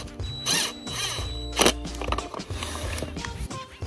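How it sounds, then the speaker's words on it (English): Screws being driven to fasten a plastic septic tank riser together, giving a close, uneven run of ratcheting, grinding and clicking mechanical noises with a few sharper knocks. "now we're gonna screw it together"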